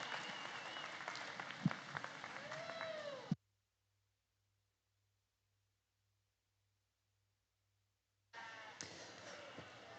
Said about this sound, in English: If we can have a round of applause for all of our Pee Wee showmen.